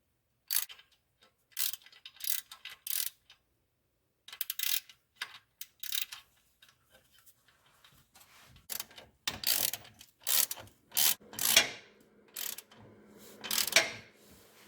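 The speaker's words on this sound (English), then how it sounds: "start tightening down the bolts that bolt onto" A wrench tightens the bolts that hold a CV Fab downpipe to a car's transmission. The ratchet clicks come in short bursts with pauses between them, close and fairly quiet, with no voices.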